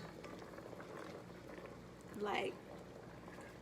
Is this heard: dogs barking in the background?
no